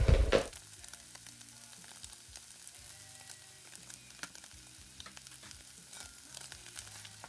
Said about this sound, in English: I'm adding my chopped onions. I added a little bit more of the oil.